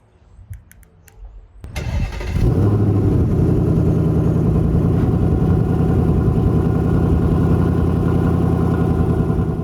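A 2024 Ford Mustang GT's V8 cranks over and fires up, then settles into a loud, steady, rumbling idle close by, with a few faint clicks before the start.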